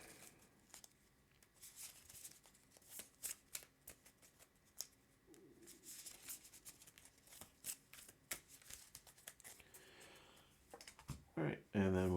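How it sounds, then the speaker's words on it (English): A deck of Marvel Champions cards is shuffled by hand, giving repeated quick riffling and snapping bursts at close range, with a voice speaking near the end. "Shuffle that up."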